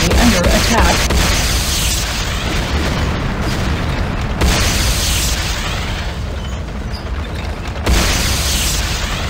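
A Nod Tiberium Refinery comes under attack and is destroyed in the game Renegade: continuous loud, rumbling explosions and booming blasts with periodic sharper bursts, dense and close throughout.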